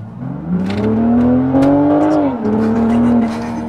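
A BMW Z4 M40i accelerates with a loud, steady engine drone that climbs in pitch, eases off briefly, then pulls again. The engine sounds close, with no voices over it.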